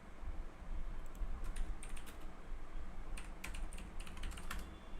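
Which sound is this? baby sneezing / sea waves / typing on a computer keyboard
typing on a computer keyboard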